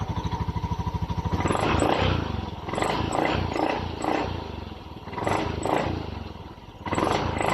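A Honda Beat FI scooter engine idles and revs in a steady mechanical drone with rising and falling bursts of throttle, close and loud with no talking.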